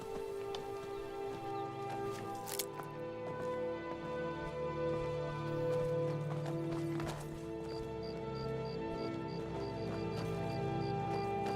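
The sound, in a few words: hoofed footsteps behind the player in video game Skyrim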